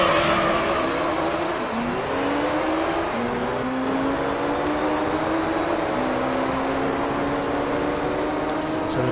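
Race car engines scream steadily at Deep Forest in Gran Turismo 3: A-Spec, several engines droning and rising in pitch through gear changes, loud and continuous throughout.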